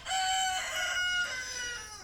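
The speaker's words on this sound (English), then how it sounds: "My rooster, Frankie, says hello as well" A rooster crows loudly and close by, one long drawn-out cock-a-doodle-doo with a rising and falling tone that fills the whole moment, no voices over it.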